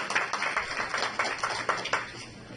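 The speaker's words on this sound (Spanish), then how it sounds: "Recibámosle pues con un fuerte aplauso" Audience clapping to welcome a speaker at a talk on billing in outpatient care units, fairly quiet and sparse, with a few distinct claps standing out over a soft patter.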